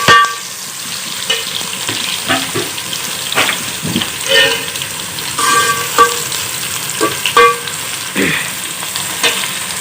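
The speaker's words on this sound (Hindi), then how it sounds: "इसको मैं लाल करूँगी प्याज को सरसों के तेल में" Sliced onions sizzling in about 2.5 spoonfuls of mustard oil, a soft continuous frying hiss broken by irregular clinks and scrapes of stirring in the pan, close by with occasional faint sounds in the background.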